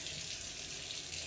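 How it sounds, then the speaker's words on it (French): Tap water running steadily in a home kitchen, a soft continuous hiss and splash heard close and alone for a moment with no talking. "Voilà l'eau qui coule."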